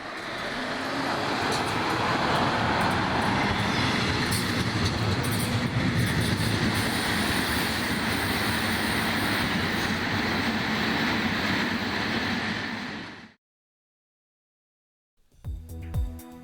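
A 1962 MTEG Class 142 electric locomotive, number 001, hauls a train past, a loud sustained rumble with wheel clatter that holds for about thirteen seconds before cutting out abruptly, followed by brief faint noise.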